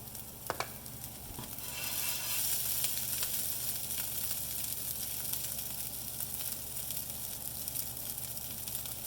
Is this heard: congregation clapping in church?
no